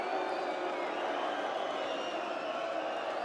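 Darts crowd at a PDC World Grand Prix final, a steady dense roar of many voices with cheering. It stays loud and constant throughout, with nothing standing out from the mass of sound.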